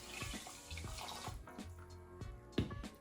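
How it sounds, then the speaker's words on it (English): Three to four cups of water pour into a pot of rice and peas, a steady close splashing and trickling with a few sharper knocks, no talking. "we can't forget adding 3 to 4 cups of water"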